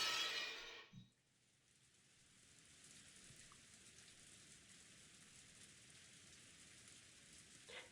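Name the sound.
rain falling, from the video game Umineko When They Cry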